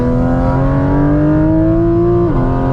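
Porsche GT4 RS engine pulling hard up a mountain pass road, a loud continuous rising roar close to the microphone that climbs steadily, then dips briefly near the end as if on a gear change.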